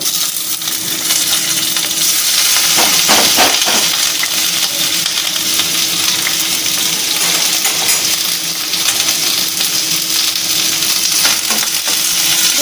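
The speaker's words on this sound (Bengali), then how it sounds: "এটাকে আমরা বাদামি করে ভেজে নেব" Three thinly sliced onions frying in hot oil in a pan, a loud continuous sizzle and crackle with a few scraping stirs early on.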